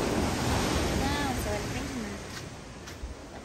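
Ocean surf rolls and washes steadily at Praia do Éden beach in Guarujá, with wind buffeting the microphone and a person talking faintly over the broad, constant roar.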